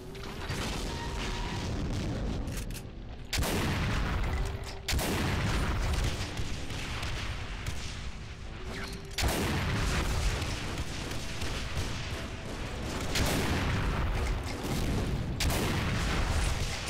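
Gunfire in Doom: loud, heavy blasts repeat at irregular intervals over a constant roar of game noise, with no voices.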